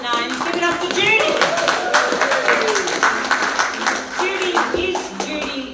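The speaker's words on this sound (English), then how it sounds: "Let's give a big round of applause." Small audience at a ukulele club evening giving a round of applause, close, loud clapping with individual hand claps audible, while people talk and call out over it.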